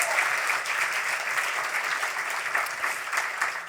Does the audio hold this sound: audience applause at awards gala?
yes